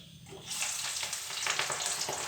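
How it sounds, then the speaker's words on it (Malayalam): Sliced jackfruit hits well-heated coconut oil and erupts into a loud, steady sizzle that starts suddenly and keeps crackling and spitting. "വെളിച്ചെണ്ണ നല്ലപോലെ മൂപ്പിച്ചതിന് ശേഷം ചക്ക അരിഞ്ഞു വെച്ചത് ഇടണം."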